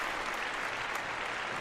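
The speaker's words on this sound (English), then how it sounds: "a big round of applause for Michael" An audience at a live call-in show gives a round of applause, a loud, dense, continuous clapping sound with no voices heard over it.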